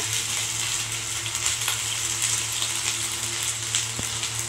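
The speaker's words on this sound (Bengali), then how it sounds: "আদা বাটা, কাঁচা লঙ্কা বাটা এর মধ্যে আমি দিয়ে ভালো করে নেড়ে নিচ্ছি" Garlic, ginger and green chilli paste being stirred into browned fried onions for an egg korma, with a steady, close sizzle of hot oil running evenly throughout and no voices.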